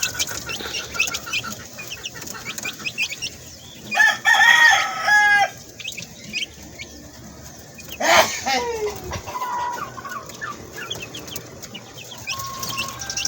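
Young chickens at a farm chirp and cluck around a feeding and probiotic session, with two louder bursts of crowing-like calls nearby amid scattered peeping and soft background noise.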